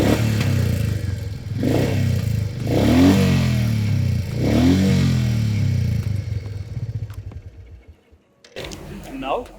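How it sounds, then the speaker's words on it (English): Royal Enfield Meteor 350 motorcycle exhaust note, a low thumping idle rumble with several rev blips, heard close by, under speech, fading near the end before a brief clatter. "starting with the exhaust note of both these bikes, first the Royal Enfield Meteor 350."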